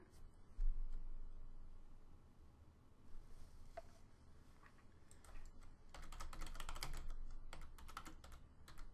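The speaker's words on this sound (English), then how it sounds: "And I'm going to type in Hunter Thompson." A search is typed on a computer keyboard, a rapid run of soft, close key clicks that bunches into dense bursts, with no talk.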